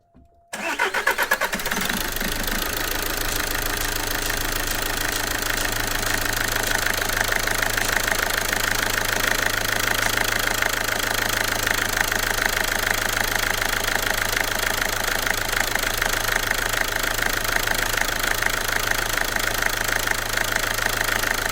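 A car engine with a failing turbo cranks and catches, then runs steadily with a harsh, continuous knocking rattle and a constant mechanical drone at close range, without speech.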